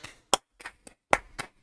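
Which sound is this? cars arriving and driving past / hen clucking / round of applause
round of applause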